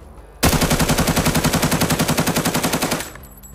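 Sustained automatic fire from the ICE 31 rifle in the shooter game Arena Breakout, a loud, rapid, evenly pulsed burst lasting about two and a half seconds, then cutting off abruptly.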